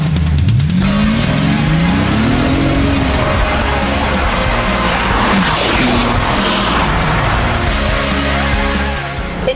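A Bentley Continental GT Speed with a 6-litre twin-turbo W12 making 600 bhp accelerates hard, its engine climbing through the gears with loud rising revs close by.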